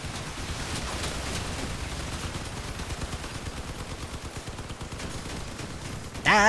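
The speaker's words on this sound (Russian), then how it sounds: "Отойди, я стреляю" Rapid gunfire from car-mounted guns in the vehicular combat game Crossout, a dense continuous stream of shots with a few louder bursts, steady and close throughout, with a sharp loud hit near the end.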